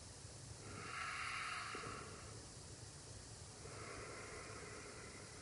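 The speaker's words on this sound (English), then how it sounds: "closing part of the breathing passage, part of the throat, usually at the back, and then creating that gentle hissing sound." Ujjayi yoga breathing, a soft steady hiss drawn through a partly closed throat, rising in two long breaths close up against a quiet background hush.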